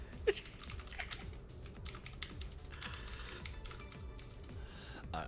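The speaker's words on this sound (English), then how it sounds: "I'm also typing with my Mistress Doom here as well." Quick, irregular clicking of keys on a computer keyboard, close and moderately quiet, continuing steadily throughout.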